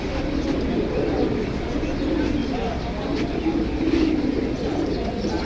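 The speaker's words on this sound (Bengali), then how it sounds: "দর্শক দেখেন এই যে এখানে আরেকটা কবুতর" Pigeons at the Jinjira bazaar pigeon market coo in low, soft, repeated murmurs, layered over a busy, steady background of market noise and nearby voices.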